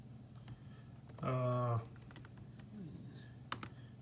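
Someone types a comment on a computer keyboard while filling in a fire brigade daily checklist: soft, quick key clicks in a quiet room, with a brief voice partway through.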